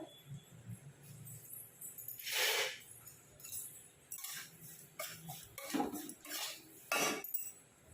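Semolina dry-roasted in a pan without oil, heard as faint, intermittent scraping and clinking of a spoon against the metal pan, close but quiet, with irregular strokes over a low background.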